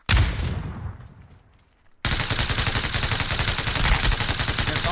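Gunfire in the video game PUBG: a loud shot with a decaying echo, then after a short lull a sustained rapid burst of automatic fire, rattling evenly and close.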